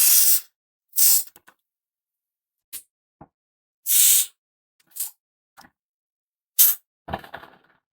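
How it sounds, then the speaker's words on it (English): Gaahleri airbrush spraying onto brown paper sack in short hissing bursts, about eight separate sprays of varying length, close and fairly loud with silence between, ending with some light handling clatter. "But it does spray pretty good."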